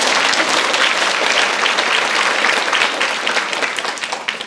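Audience applause fills a hall at a parenting lecture, a dense, steady wash of clapping that holds loud for several seconds before thinning toward the end.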